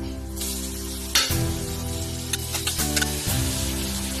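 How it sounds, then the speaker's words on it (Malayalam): Onions dropped into hot ghee in a pot for Thalassery dum biryani masala, a steady close sizzle with a sharp burst at the drop and a few brief clatters of stirring. "നെയ്യാണല്ലോ ചൂടായി വന്നിട്ടുണ്ട് നമുക്ക് ആദ്യം ഉള്ളി ഇട്ട് കൊടുക്കാം"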